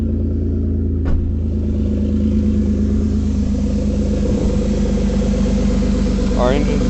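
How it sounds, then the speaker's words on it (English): A Ford Escape engine idles steadily after a misfire repair, giving a continuous, even mechanical hum with a few faint clicks, close and loud throughout. "Our engine's not shaking back and forth like a freight train."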